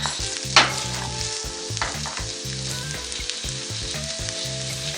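Chopped onion fries in a pan as the base for an oxtail broth, giving a steady close sizzle with a few brief clatters and no voices.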